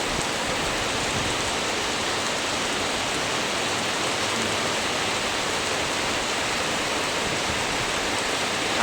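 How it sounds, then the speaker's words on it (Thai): Heavy rain pours down in a steady, dense roar that never lets up, with no voices or other sounds. "ปริมาณน้ำฝนที่ตกหนักเท่ากันสม่ำเสมอนะฮะ"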